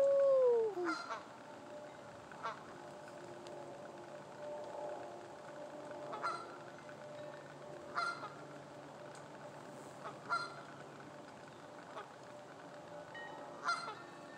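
Young geese from the previous year honk outdoors in a series of short, moderately loud calls spread at irregular intervals, with no talking over them.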